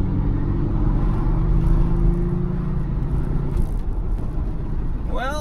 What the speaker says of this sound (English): I'm gonna put it down to second now to get the full load out of the motor.